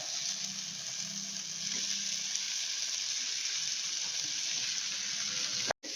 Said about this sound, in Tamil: உருளைக்கிழங்கு கொஞ்சம் இந்த மாதிரி வதக்கி விட்டுங்க